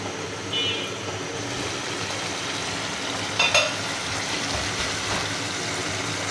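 Small fish fry in a pan with a steady, moderate sizzle close by, broken by a couple of brief stirring or utensil clinks, with no speech.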